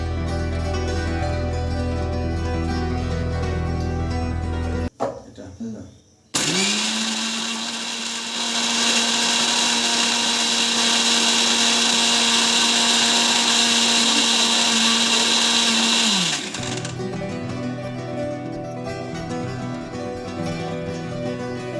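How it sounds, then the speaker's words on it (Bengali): An electric blender whirs steadily at high speed for about ten seconds as it purees ripe mango pulp for homemade aamsotto, loud and close, starting and stopping abruptly amid quieter kitchen sounds. "সব আমগুলোকে দুইবার ব্লেন্ড করে ভালো মতো পাল্পটা বার করে নিয়েছি"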